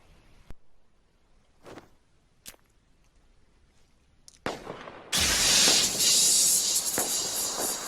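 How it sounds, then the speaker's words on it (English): A gas grenade in the video game H1Z1 hisses loudly and steadily for several seconds, preceded by a few quiet clicks and thuds. "The gas grenade."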